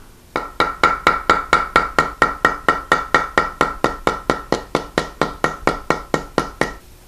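A hammer strikes a welded-handle veining chisel against metal on a 2x4 with a sweatshirt pad, shaping a dogwood metal sculpture: about twenty-five loud, evenly spaced sharp knocks in a steady rhythm, with no talking.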